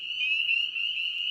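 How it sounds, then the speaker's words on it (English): An ornate coarse frog gives a continuous, high, buzzy trilling call, close and clear, holding steady throughout without pause. "Another ornate coarse frog."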